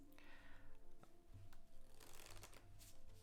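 A deck of playing cards being shuffled during card magic practice, giving a steady, soft riffling and flicking texture with a few sharper snaps and cuts, close up and quiet, without speech.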